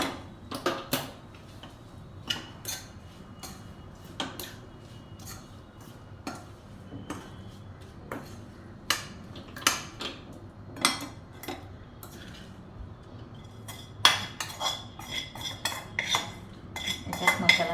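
A spoon scrapes and clinks against a pan while spices, chili powder, turmeric and tomato are mixed into okra, with irregular metallic taps and scrapes repeating close up for the whole stretch.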